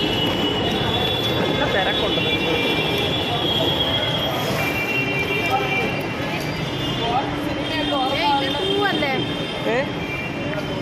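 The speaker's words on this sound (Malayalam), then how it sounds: "നമ്മളിത് മെട്രോ കയറാനായിട്ട് വന്ന്" Steady rumble and rattle of a Delhi Metro train in motion, with wheel squeals rising above it as people talk nearby.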